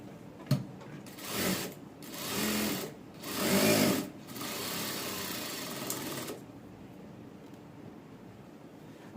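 A sewing machine stitches a padded blouse in three short whirring runs that swell and fade, followed by a steadier softer hum, close and without talk.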